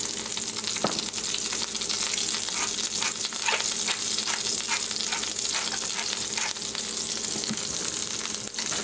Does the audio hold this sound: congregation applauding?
no